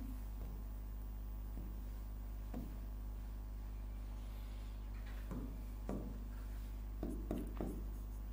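Handwriting a physics derivation, with a pen or chalk scratching in short strokes and a quick flurry toward the end, faint over a constant low electrical hum.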